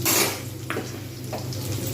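Onions tipped into hot oil in a wok over high heat for restaurant-style chow mein, with a brief loud sizzle and clatter of utensils against metal, close up, settling into steady frying.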